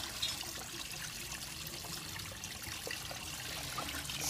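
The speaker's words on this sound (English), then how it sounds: "Now let's flush it." Water flushes steadily through a repair fitting, a continuous close hissing rush with no pauses.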